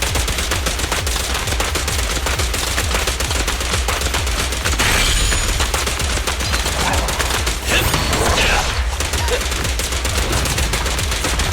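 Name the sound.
gunfire in Zenless Zone Zero video game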